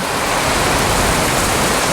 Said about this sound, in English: It's not a full-on Philippine tropical storm, but it's pretty heavy nonetheless.